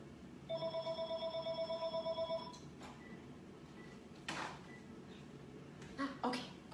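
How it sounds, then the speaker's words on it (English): A telephone rings indoors in a house, a repeated electronic trill in steady pulses for about two seconds, moderately loud and alone, followed by scattered household knocks and shuffles. "Our phone's ringing"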